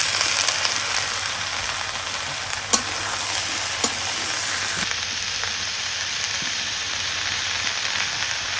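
Potatoes and yardlong beans fry in oil with whole cumin in a village kitchen pan, a steady broadband sizzle with a few sharp stirring clinks and scrapes, close and fairly loud, no voices.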